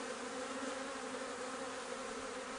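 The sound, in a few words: honey bees buzzing in a nuc hive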